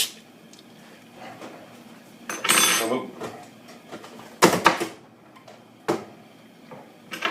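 A spoon scrapes the seeds out of a halved vegetable in a home kitchen. Several short, close scraping bursts come at irregular intervals over a quiet background, with a faint voice at times.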